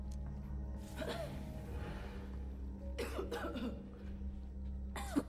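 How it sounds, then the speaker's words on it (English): A person in a room gives a few scattered coughs and throat clears, faint and fairly close, over a low steady electrical hum. "Why are you coughing?"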